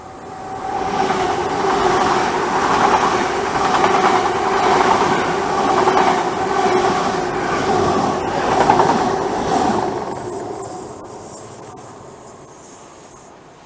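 A train rumbles past on the tracks at Dawlish, with a steady roar and rhythmic clatter that fades off toward the end, leaving faint hiss.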